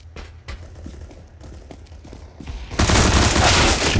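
Gunfire in Counter-Strike: Global Offensive, first light footsteps and faint shots, then a loud sustained burst of automatic fire erupting near the end.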